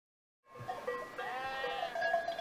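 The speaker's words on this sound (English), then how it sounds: "In Judea today, sheep and goats are still grazed in the hills." Goats and sheep bleat in the Judean hills, a single drawn-out wavering call rising after a brief silence and holding loud and close to the end.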